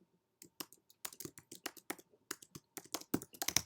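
Clicky keystrokes tap out in quick irregular bursts on a computer keyboard while a Python function is written, the keys close and fairly quiet with short pauses between runs and no talking.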